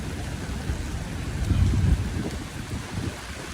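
Rain falling on a Midtown Manhattan street on a heavy rainy day, a dense, steady wash of noise with some wind rumble on the microphone, swelling slightly midway, no talk.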